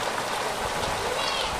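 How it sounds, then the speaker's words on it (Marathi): Heavy rain driven by wind pours down in a village, a dense and steady hiss of drops hitting surfaces, close and unbroken throughout. "कसा वारा पाऊस"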